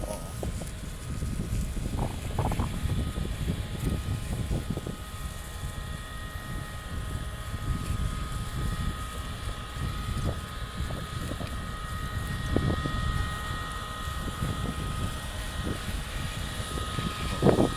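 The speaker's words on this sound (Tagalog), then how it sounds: "Ingay ng makina." Engine noise from a passing vehicle in the Saudi Arabian desert forms a steady low rumble with gusty wind on the microphone, a few faint knocks and clatters rising and falling over the span.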